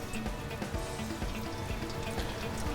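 Water and fuel drain from the fuel filter housing of a 2003-2007 Ford Powerstroke 6.0, a steady, close trickling and splashing stream that runs throughout at low level with no talk.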